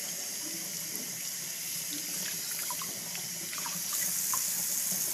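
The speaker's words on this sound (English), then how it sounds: "first turn the water to a nice warm setting. Now rinse your hands" Warm tap water running steadily into a sink while hands are rinsed, a constant close splashing hiss with small irregular drips and splatters, no voices.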